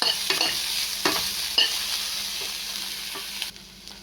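Food frying in a little oil hisses steadily in a pan while a utensil stirs it with a few scraping knocks, close and with no talk.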